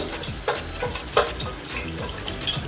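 Whole spices fry in oil in a pot for chicken biryani: four or five cardamom pods, cinnamon and bay leaves. A soft, steady sizzle is broken by a couple of brief clatters and stirring scrapes.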